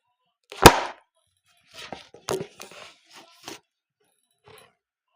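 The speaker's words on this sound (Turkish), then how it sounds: "Arkadaşlar pardon kamera düştü" A sharp, loud clattering knock as a camera falls, then a few scattered bumps and scrapes as it is handled, with quiet gaps between.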